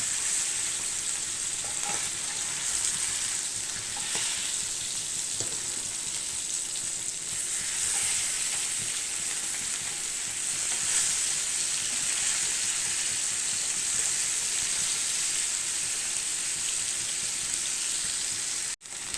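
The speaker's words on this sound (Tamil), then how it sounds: "நம்ம மீனை வந்து ரெண்டு பக்கமும் திருப்பி திருப்பி விட்டு வேக வச்சாச்சு மீன் வந்து நல்லா பொரிஞ்சிருச்சு" Masala-coated fish frying in oil in a pan, a dense, loud, unbroken sizzle lasting throughout with faint bubbling texture, ending abruptly.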